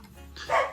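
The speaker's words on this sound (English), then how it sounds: "Sorry about my dog barking." A pet dog lets out a single short bark near the end, sharp and fairly close after a brief quiet moment indoors.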